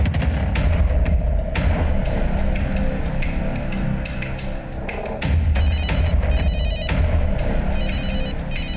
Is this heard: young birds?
no